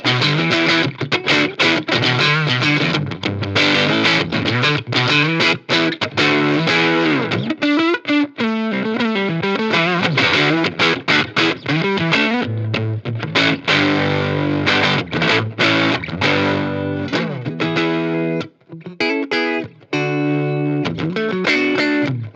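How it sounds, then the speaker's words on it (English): Electric guitar played through a 5E3 Tweed Deluxe amp cranked into heavy, tight, high-gain distortion, with loud sustained riffs and chords running continuously and no talking. "I'm getting lots of gain, and it's still relatively tight. This is like that distortion rock god kind of setting."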